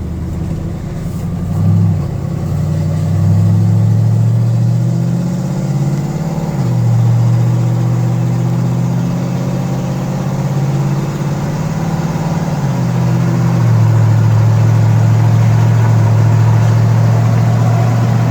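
The LS engine in a 1949 Chevrolet pickup hot rod with a patina finish idles steadily nearby, its deep rumble rising and falling through a few gentle revs.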